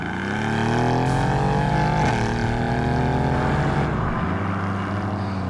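A Mercedes-AMG car's engine and exhaust drone loudly in its loudest drive mode, a steady, close, humming roar with rising and falling tones and no talking.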